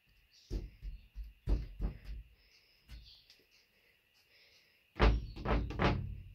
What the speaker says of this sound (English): Who's knocking from the closet?